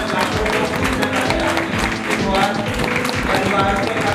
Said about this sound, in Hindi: देखिए तालियां कम है,